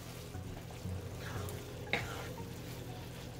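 Beef taco meat simmering in a pan gives a soft, steady sizzle and bubbling, with occasional stirring scrapes and a light utensil clink, fairly quiet and close.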